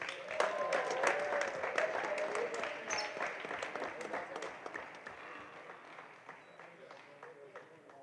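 Spectators in a high school gym at the 2022 Highlander Hoopfest basketball tournament applaud the champion Melrose High School and all participants. The clapping is scattered and fairly faint, mixed with voices and calls that ease off toward the end.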